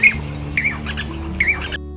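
A Jacobin cuckoo (Clamator jacobinus) gives three loud, shrill, clipped calls at roughly even intervals, each followed by softer chatter, close by with a faint background hum.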